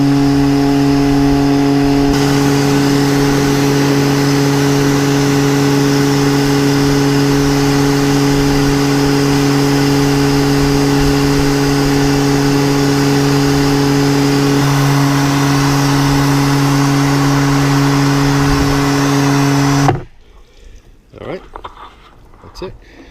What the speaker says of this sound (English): I'm just going to rinse everything off with a high pressure washer